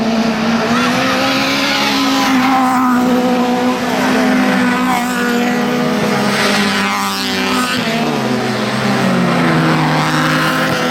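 Autocross race cars, including an Opel Corsa, competing in an over-1600 cc final at Carballo: loud sustained engine roar with shifting revs and tyre scrubbing, several cars running together, and a commentator talking over it throughout.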